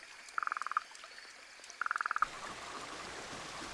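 A frog croaking in Australian wetland after drought: two rapid trilled bursts of clicking croaks, fairly close, over a soft background hiss of water.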